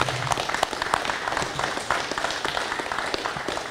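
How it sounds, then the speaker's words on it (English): A round of applause for a police officer at a law enforcement salute ceremony, moderate clapping from a small gathering with distinct individual claps standing out, steady throughout. "let's give one more big round of applause to Officer Wesley Booth"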